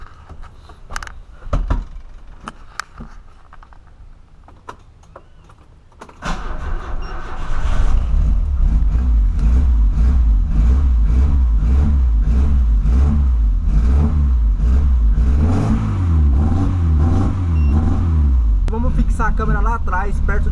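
A Volkswagen Voyage fitted with a sport exhaust starts up after a few quiet seconds, then idles and revs repeatedly with a deep, loud, rumbling tone, heard close from near the tailpipe.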